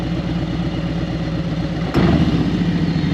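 A 2021 Harley Street Glide M8 engine idles steadily and close, then gets a short electronically triggered 12% throttle blip from a MaxxECU that makes the engine note swell suddenly and stay louder.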